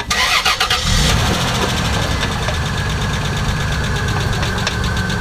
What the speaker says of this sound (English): So turn your car on, Gary.